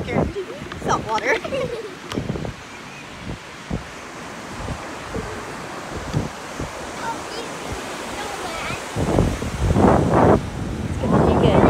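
Surf washes and rumbles beneath wind buffeting the microphone, with voices talking over it and a louder wave surge near the end.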